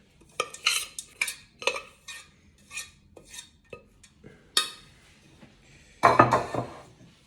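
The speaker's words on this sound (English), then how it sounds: "just spread your mixture out to the four corners of the tray" Granola mixture scraped and spread across a parchment-lined baking tray with a utensil, a series of soft scraping and tapping strokes in an irregular rhythm, close by, ending in a louder clattering burst.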